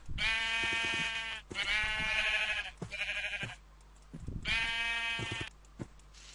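Several loud, drawn-out sheep bleats from the video game Minecraft, with a synthetic quality, coming in bursts with short pauses, and no talking.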